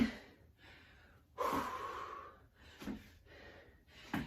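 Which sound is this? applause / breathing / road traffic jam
breathing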